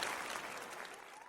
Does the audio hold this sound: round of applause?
yes